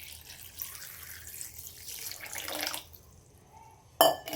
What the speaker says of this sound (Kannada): ಇವಾಗ ನೀರು ಹಾಕ್ತೀನಿ ನೋಡಿ